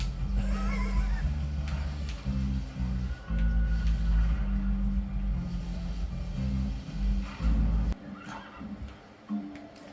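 A video game horse neighs and whinnies over low, droning game sounds, with faint hoof clops and soft chatter at a moderate level.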